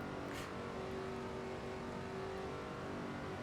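A race car engine in the video game NASCAR 09 drones steadily at a constant, loud pitch, a continuous roar with a faint tonal whine and no breaks.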